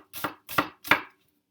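A new kitchen knife chops on a cutting board: three crisp, evenly spaced chops, close and clear, each with a short scraping tail, then silence.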